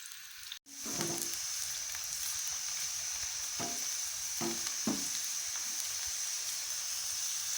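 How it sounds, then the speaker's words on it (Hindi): Onions browning in oil in a frying pan for Delhi-style beef nihari give a steady loud sizzle, broken by a few soft stirring clatters, with no talking. "हमने एक फ्राई पैन ले लिया है, इसमें हमने ऑयल ऐड करने के बाद प्याज शामिल किए हैं"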